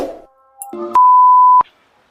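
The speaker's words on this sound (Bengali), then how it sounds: "জামাই ফোন লাগিয়ে দিছে আচ্ছা ফোনটা ধরি" A phone ringtone sounds in a steady electronic tone lasting under a second, loud and close, with a few short beeps around it and no talk.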